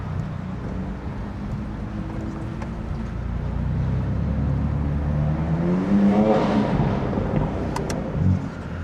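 A 480 hp BMW F80 M3 accelerates through city streets, its engine and exhaust rising in pitch as revs build, heard close from inside the car over steady road noise.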